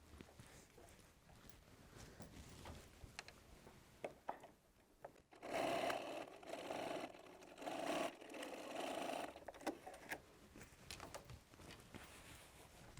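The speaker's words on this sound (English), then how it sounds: "we're going back to the machine, and we're just going to sew that down using a 1/4 inch seam." A sewing machine stitches a quarter-inch seam on a quilt block, a soft steady whir running for several seconds after some quieter handling noise, fairly faint and without talk.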